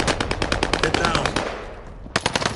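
Loud, close machine gun fire in a video game, a fast rattling burst that tapers off, then a short pause before another sharp burst starts.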